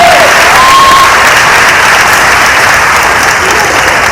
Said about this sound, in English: let's give Ziggy another round of applause